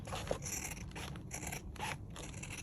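Scissors snip through leather in a few short, close cuts, each a crisp rasping slice with brief pauses between strokes, quiet and alone.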